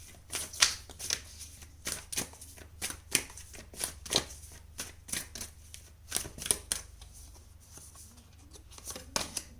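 Tarot cards being shuffled by hand, a series of soft, crisp riffling bursts at an irregular rhythm, close and fairly quiet with no talking.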